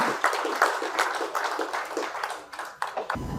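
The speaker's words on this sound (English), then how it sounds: "Again, a warm applause for all our speakers." A conference audience in Manila applauding the speakers, a short burst of moderate hand clapping with distinct individual claps, close and without talk.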